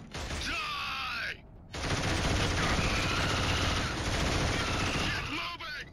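Sustained automatic fire from a mounted machine gun in the Killzone game, a dense, continuous rattling burst that runs for several seconds after a short pause, with a shouting voice and groans mixed in close.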